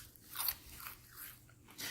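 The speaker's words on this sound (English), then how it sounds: "the chips are so crunchy and delicious" Crisp crunching of homemade tortilla chips being bitten and chewed close to the mic, several quick brittle cracks in a row, with no talking.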